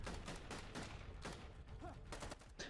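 Pistol gunshots from a zombie TV drama come as several sharp, separate cracks spread unevenly through a busy, faint soundtrack.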